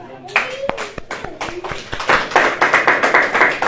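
A crowd at a church sermon breaks into applause, starting with scattered claps and building into steady, dense clapping from many hands, with a brief voice early on.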